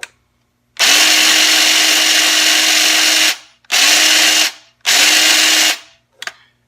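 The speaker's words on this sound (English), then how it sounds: "let me show you how the blades work so you can see it closely on the camera" A SnapFresh 20V cordless hedge trimmer runs its blades in three loud bursts, a long run of about two and a half seconds followed by two shorter ones, with a steady motor whine and a chattering cutter rattle stopping sharply between each.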